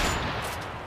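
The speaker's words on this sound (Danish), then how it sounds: "Jeg kan se skud!" Dense, continuous gunfire from the video game Modern Warfare 3, a steady rattling wash of shots that fills the whole moment without pause.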